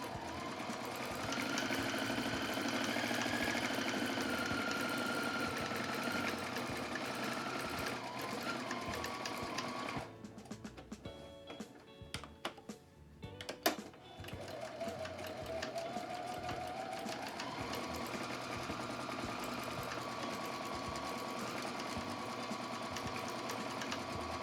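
A sewing machine stitches stiff buckram onto muslin for handmade shoes, running steadily and close for most of the stretch, with a brief pause partway through before the whirring resumes.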